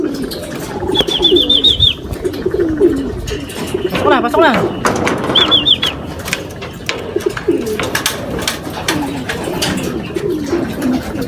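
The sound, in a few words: racing pigeon cooing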